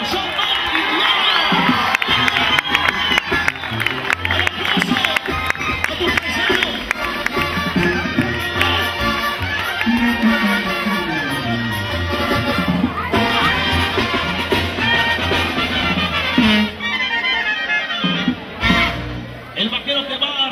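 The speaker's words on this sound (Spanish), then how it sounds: "público, se merece el aplauso y la ovación" A crowd at a bullfight in Sucilá, Yucatán, cheers loudly and continuously, with shouts and whoops rising and falling over a dense roar of many voices.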